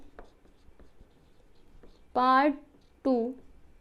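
Faint scratching strokes of writing as the angle bisector theorem for a ninth-grade geometry lesson is written out, followed by two short bursts of a voice speaking.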